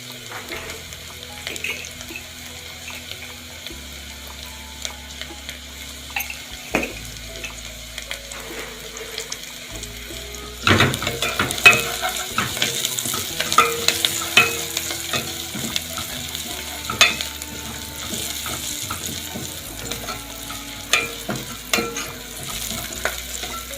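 Onion fries in a pan while a spoon stirs it, with a soft crackling sizzle and scraping clatter, quiet at first and then busier and louder after a splash of liquid about halfway through.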